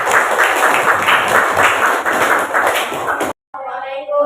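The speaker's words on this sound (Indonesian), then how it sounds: "kita beri tepuk tangan." A classroom of students applauds a group that has just finished presenting. The thick clapping runs steadily, stops abruptly, and then a voice begins speaking.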